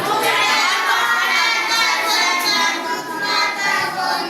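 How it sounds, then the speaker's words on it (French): A crowd at a young talent event in Mbuji-Mayi, with many children's voices among them, cheers and shouts loudly and steadily for a young singer for about four seconds. "Acclamez très pour lui."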